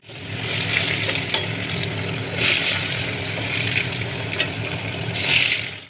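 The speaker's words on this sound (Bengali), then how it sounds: "এবার আমি মাছগুলোকে ভেজে নেব।" Fish fry in hot oil in a pan, a steady close sizzle with occasional louder crackling bursts and spatters, with no talk.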